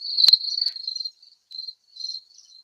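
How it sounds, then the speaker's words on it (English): Insects trill in short high-pitched bursts, one loud close chirp followed by fainter broken phrases separated by brief silences, with no talk. "I've got the cicadas going on out my ears at the minute."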